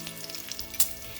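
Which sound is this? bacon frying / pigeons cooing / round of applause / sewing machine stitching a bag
bacon frying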